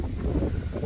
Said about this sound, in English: Wind's starting to pick up a little bit more.